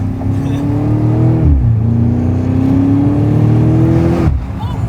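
A BMW X5M Competition accelerates hard, its engine roaring loud and close from inside the cabin, pitch climbing steadily, dropping briefly at a gear change, then climbing again before easing off.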